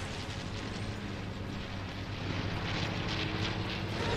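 A plane in a video game roars overhead as a loud, broadband rumbling drone that holds steady and swells slightly, with no speech over it.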